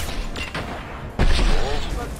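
Heavy weapon fire in the Mass Effect 2 game, a loud sudden blast following lighter gunfire bursts, with a voice talking over the action.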